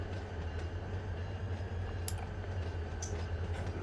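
Freight train rolling along in Run 8 Train Simulator, a steady low rumble of the locomotive and cars with faint intermittent clicks, with no one talking.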